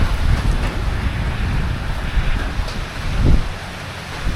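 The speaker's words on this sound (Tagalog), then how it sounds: "Tuloy-tuloy pa rin ang ulan." Continuous heavy rain pours down in a steady, dense wash of noise with no pauses, loud and close throughout, with gusty rumbling underneath.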